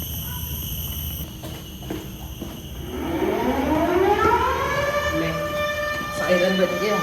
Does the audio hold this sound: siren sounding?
yes